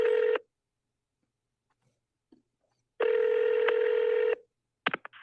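Telephone keypad tones dialing a call to the police, a short beep, a pause, then a longer sustained tone of over a second, followed by a few quick clicks and blips, clear and alone.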